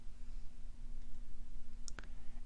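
A computer mouse clicks on worksheet fields: a couple of quick, crisp clicks close together, set against a quiet room hum.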